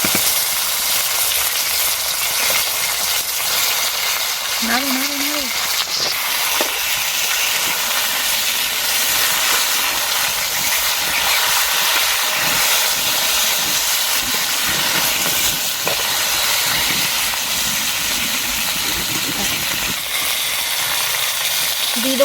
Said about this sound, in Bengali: কেটে রাখা শিমগুলো দিয়ে দেবো।